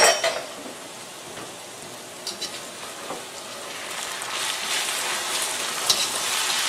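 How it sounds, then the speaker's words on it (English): Okra frying in a pan and being flipped, a steady close crackling sizzle with a few clinks of the utensil against the pan. "it's time to flip this okra"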